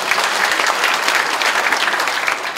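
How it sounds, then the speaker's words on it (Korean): Loud, sustained applause of encouragement from a large audience at a music awards ceremony, an even wash of many hands clapping without a break. "다시 한번 격려의 박수 부탁드립니다"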